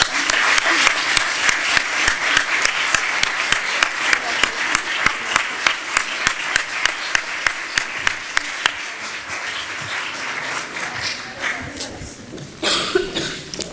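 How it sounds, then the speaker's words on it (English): Audience applause at a closing ceremony of an international conference, heard as a sustained wash of clapping with sharp rhythmic claps standing out in a steady beat, fading out toward the end before a brief burst of noise. "Applause for them."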